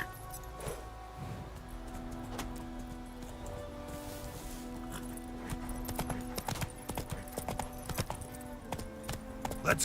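Horse hoofbeats from The Witcher 3 video game, a steady clip-clop of a mount on the move, fairly close and continuous throughout, with rustling in the background and no talk over it.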